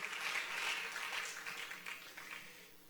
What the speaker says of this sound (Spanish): Dale un fuerte aplauso de alabanza a Jesús